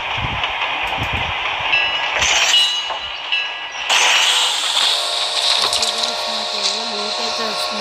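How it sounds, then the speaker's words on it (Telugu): A moving train in the mobile battle game BGMI gives off steady mechanical rattling and clanking with a high whine. A voice speaks over it early on, and then the rumble carries on close and loud. "ట్రైన్ కూడా కదులుతుంది గైస్"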